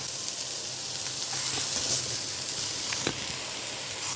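Ginger pieces sauté in a pan with a soft, even hiss of frying oil that runs steadily throughout, fairly quiet and close, with a few faint clinks and no speech.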